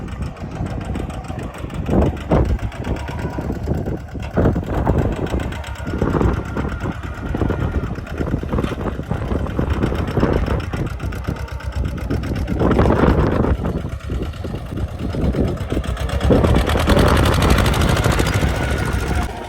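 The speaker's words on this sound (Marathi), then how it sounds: "चोवीस एच पीचा ट्रॅक्टर आहे" A 24 hp tractor engine pulls a seven-row seed drill during field sowing, producing a steady, loud mechanical drone with irregular clanks and rattles running throughout, close to the listener and with no talking.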